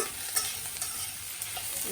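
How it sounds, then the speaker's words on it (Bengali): Onion with cardamom, cinnamon and bay leaf frying in hot oil for chicken biryani, a continuous close sizzle with a few light stirring scrapes. "এখানে পেঁয়াজ দিয়ে দিলাম আর এলাচি দারচিনি তেজপাতা এটি সম্পূর্ণটা দিচ্ছি"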